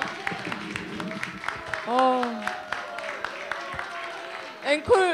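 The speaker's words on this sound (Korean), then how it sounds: "다시 한번 큰 박수 부탁드릴게요" Clapping from an audience at a book concert after a young singer's song, running under prominent talking voices and a few vocal exclamations.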